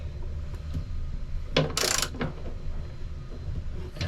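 A 17 mm socket wrench ratchets on bolts aboard a boat, a short burst of clicking and metallic rattling up close, with quieter mechanical knocks before and after.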